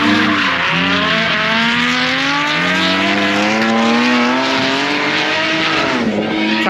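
A turbo drift car at Crail Raceway revs hard against the limiter with squealing rear tyres, a loud, close, sustained engine wail that wavers as the car slides.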